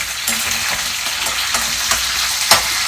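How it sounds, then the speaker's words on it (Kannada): Tomato, almonds and soaked cashews frying in a pan for a palak paneer gravy, a loud, steady close sizzle broken by a few stirring scrapes, with no talking. "ಸೊ ಈಗ ಇದೆಲ್ಲನೂ ಇದಕ್ಕೆ ಹಾಕ್ಬಿಟ್ಟು ಫ್ರೈ ಮಾಡ್ಕೊತೀನಿ."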